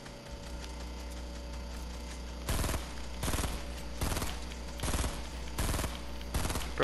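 Player's gunfire in a shooter video game: loud, close bursts of rapid automatic fire, about six of them spaced roughly a second apart, over a steady low game hum.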